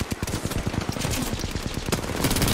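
Gunfire in Apex: rapid, close, loud bursts of automatic weapon shots, one after another without a break.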